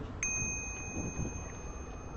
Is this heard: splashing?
no